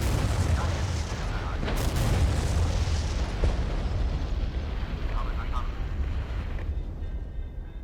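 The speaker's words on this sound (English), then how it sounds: "We're gonna artillery strike their artillery" Artillery strike explosions in the war strategy game Regiments rumble as a dense, continuous low roar with heavy booms layered throughout, loud and sustained, with a voice faintly underneath.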